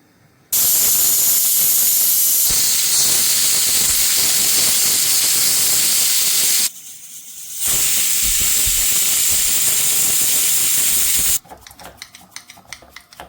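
A pressure cooker whistle blasting steam in a kitchen, a loud sustained hissing shriek that cuts out briefly and then resumes before stopping, leaving quieter clatter behind.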